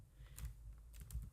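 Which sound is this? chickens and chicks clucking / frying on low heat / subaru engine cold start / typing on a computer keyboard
typing on a computer keyboard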